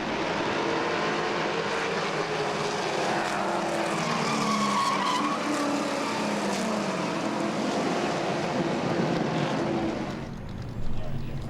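A Grand Stock race car at Langley Speedway spins out with a long, loud tire skid over crowd and engine noise, ending in a short thump near the end, while a commentator talks over it.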